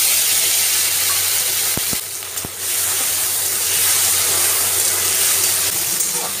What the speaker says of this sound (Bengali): এবার এতে টমেটো কুচিগুলো দিয়ে দেব।